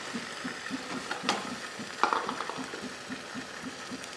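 Ingredients for a patta methi and potato dish frying in a pan, a soft steady sizzle with regular stirring scrapes in an even rhythm, fairly close and moderately quiet.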